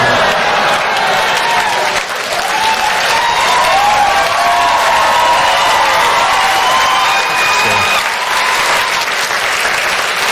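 A stand-up comedy crowd breaks into loud, sustained applause, a thick roar of clapping with faint cheering that carries on without pause for several seconds.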